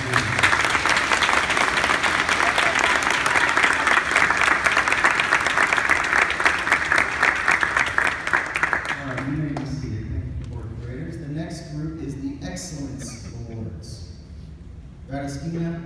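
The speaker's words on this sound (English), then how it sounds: "Let's give them a round of applause, please." Audience applause at a school awards ceremony for 4th and 5th grade academic achievement, loud sustained clapping filling the room for about nine seconds before fading as a voice begins speaking.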